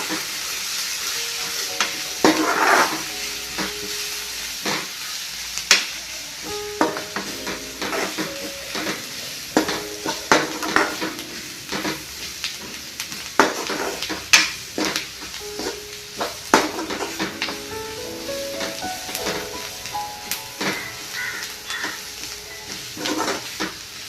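Spices are stirred and sautéed in a pan for a Kerala-style onion coconut milk curry, with a steady sizzle under repeated scraping and clinks of a spoon against the pan, close and without talk.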